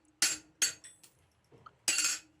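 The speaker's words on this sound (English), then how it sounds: "The plate that I'm hammering on is called a bolster plate, and it just has a series of holes that allows me to support the edges of the work while I'm drifting it" A hammer drives a drift through bar stock resting on a steel bolster plate while making blacksmith tongs, giving three loud, close, ringing metallic blows with a few lighter taps between them.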